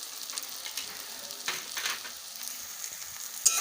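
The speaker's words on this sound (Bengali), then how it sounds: "এবার সব কিছু নাড়াচাড়া দিয়ে ভালোভাবে কষিয়ে নেব" Ground spices for palak paneer (coriander, cumin, red chilli, turmeric and salt) frying in a hot pan, a steady close sizzle with soft scraping as they are stirred, no voices.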